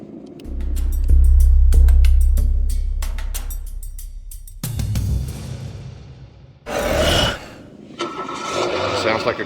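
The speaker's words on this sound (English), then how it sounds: "Sounds like a car starting." A car engine start effect played through the built-in Bluetooth speaker of a Segway Ninebot GoKart Pro, a loud cranking burst rising into a rumbling engine, then quieter electronic tones near the end.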